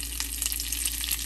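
Curry leaves are added to hot oil along with mustard seeds and white sesame seeds for a khandvi tempering, producing a close, crackling sizzle with small rapid pops over a steady low hum and no speech.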